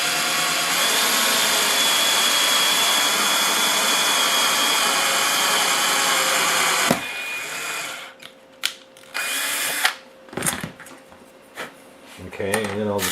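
A power drill bores 3mm holes in the frame rails of a Tamiya 1/14 model truck built on a Grand Hauler frame. It runs as one steady, close whine for about seven seconds, then breaks into short bursts, clicks and handling noises.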